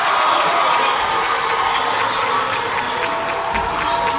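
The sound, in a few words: student section crowd cheering at a volleyball game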